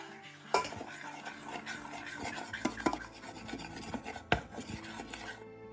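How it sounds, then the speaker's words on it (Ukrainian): Spices being stirred into honey for honey gingerbread, a close scraping and rubbing of a spoon against a bowl with a few sharp clinks, no voices. "до меду додати спеції та добре перемішати"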